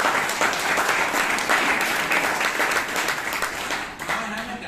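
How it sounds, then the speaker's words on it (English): A Toastmasters meeting audience in Bangalore gives a steady round of applause for a speaker, dense even clapping throughout that thins slightly near the end. "please give him a big round of applause."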